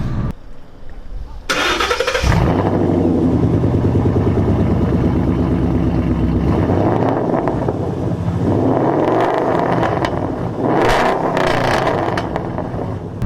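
A 2012 Mustang GT with a longtube Coyote V8 and Flowmaster Outlaw exhaust cranks and fires up, then roars loudly at close range. It rises and falls through several throaty revs over a rumbling idle.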